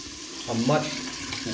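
Water runs from a tap into a bathroom sink and flows down the drain after the stopper has been cleaned, a steady close hiss with a brief louder splash and gurgle midway.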